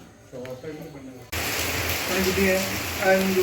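Quiet talking at first, then heavy rain abruptly fills in as a constant broadband patter, with voices continuing faintly under it.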